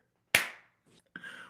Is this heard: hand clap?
yes